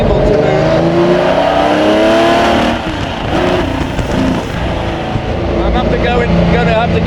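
A 60-year-old Jaguar XJ13 race car, a priceless one-off, is driven on track. Its engine gives a loud, close, continuous roar that dips slightly and then surges again.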